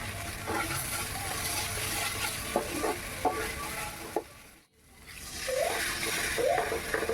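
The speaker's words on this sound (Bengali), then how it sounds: "এখন ভালো করে নেড়েচেড়ে মশলাটাকে ভেজে নিতে হবে।" Poppy seed and cashew masala paste being stirred and fried in a pan, with a soft sizzle and scattered spoon scrapes that stop for a moment and then resume with wetter, squelchy stirring.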